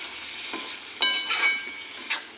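Water being stirred into a simmering bean curry (shim chorchori) in a pan, giving a steady wet sizzle with a few scraping spoon strokes, close and moderately loud.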